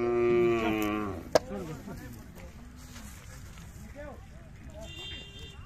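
A young Khillar bull lets out one loud, close moo at a village fair, followed by someone talking over crowd noise.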